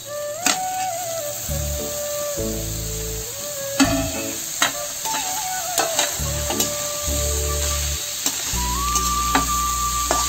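Snake gourd frying in hot oil with cumin, mustard seeds and ginger-cumin paste, a loud steady sizzle with bursts of stirring and scraping throughout, close by with no talking.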